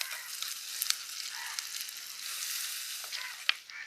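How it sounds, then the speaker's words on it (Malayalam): Ginger, garlic, shallots and green chilli sauté in a pan for a fish curry, giving a steady soft sizzle with a few sharper crackles and pops, close and alone. "ഇഞ്ചി, വെളുത്തുള്ളി, ചെറിയുള്ളി, പച്ചമുളക് എല്ലാം നന്നായിട്ട് വഴന്നിട്ടുണ്ട് കേട്ടോ"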